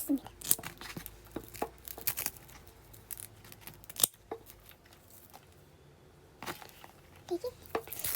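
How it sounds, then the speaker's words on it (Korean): Scissors cutting a Scindapsus aureus (pothos) stem for propagation, giving a series of close, quiet, crisp snips spread irregularly across the stretch, with soft handling rustles between cuts. "우선 가위로 잘 맞는 가위로 얘를 잘라줄게요."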